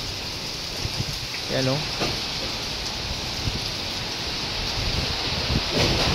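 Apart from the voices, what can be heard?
strong wind and light rain during storm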